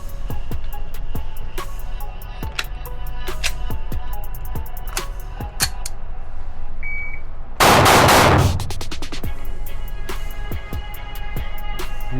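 Pistol shooting with a shot timer, heard as a steady series of sharp, loud gunshots spaced out over several seconds, a short electronic beep midway, then a dense burst of rapid shots before scattered single reports resume.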